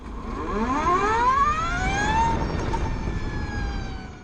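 An Energica electric motorcycle accelerates with a rising, siren-like motor whine that climbs in pitch over a couple of seconds and then levels off, loud and close above steady wind and road noise.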